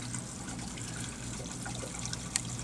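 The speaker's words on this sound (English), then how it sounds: "the water going into the overflow, or going into the sump tank" Water from a homemade double overflow spills steadily down into an aquarium sump, a soft continuous trickle and gurgle with a low hum underneath and one brief splash near the end.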